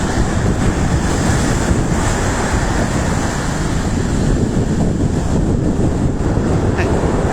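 Rough, agitated Sicilian sea with waves breaking continuously, a loud steady roar of surf and wind filling the whole stretch with no voices.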